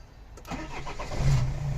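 A Renault Trafic 2.5 van with an electrical fault cranks briefly and its engine catches, settling into a close, steady idle.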